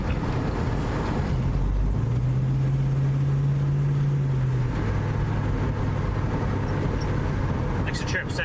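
Carbureted car engine running while driving, a steady engine drone under road noise with a sustained hum that rises in pitch for a few seconds, then settles lower.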